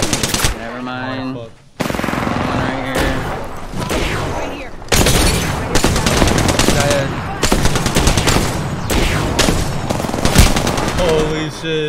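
Rapid automatic gunfire and shotgun blasts from a shooter video game sound loud and nearly nonstop, dense bursts stacking over one another with occasional booms, and a voice talks briefly.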